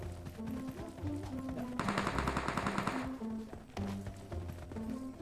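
Automatic gunfire from the battle-royale game PUBG on the Erangel map, sharp rapid bursts with a sustained heavy volley in the middle, mixed with game effects and a faint voice.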